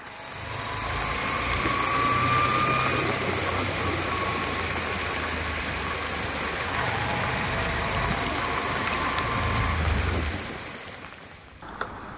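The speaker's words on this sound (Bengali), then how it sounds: "যে হারে বৃষ্টি পড়তেছে চারদিক প্রায় চারপাশ ঘোলা হয়ে আসতেছে" Heavy rain pours steadily during a motorcycle ride through Dhaka streets, a dense, loud wash of rainfall and road noise that holds for most of the stretch before easing near the end.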